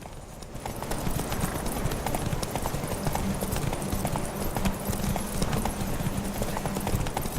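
A horse gallops during a ride in The Witcher 3: Wild Hunt, rapid rhythmic hoofbeats close and steady over a low ambient bed, with no talk.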